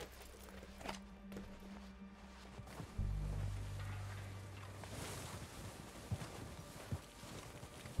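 Horse hooves clip-clopping in the video game Red Dead Redemption 2, a steady walking rhythm that is fairly faint beneath a low rumbling ambience.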